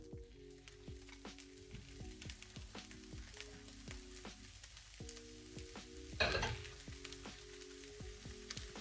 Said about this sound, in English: And then start frying off your peppers.